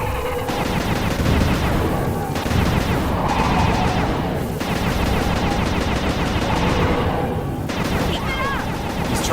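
Turret gunfire in an adult-rated video game, continuous dense bursts of rapid shots and booming blasts filling the whole stretch at loud, steady volume.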